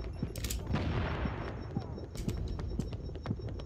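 Frag grenade blast in The Division amid scattered gunfire, a burst of broadband noise early on followed by repeated sharp shots and crackles, with a voice reacting partway through.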